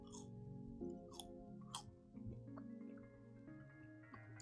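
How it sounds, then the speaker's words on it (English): KFC secret-recipe fries, coated in herbs and spices, chewed close to the mic, giving a few crisp crunchy bites over a steady tonal background. "Hope you like the chewing sounds, by the way."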